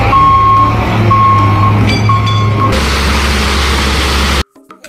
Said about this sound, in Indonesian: Truk molen buat ngecor jalan.